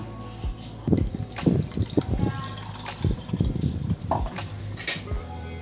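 Blended amla juice is strained in a kitchen: utensils clink and scrape while liquid pours and splashes in short, uneven bursts, fairly close and moderately loud, with no voices.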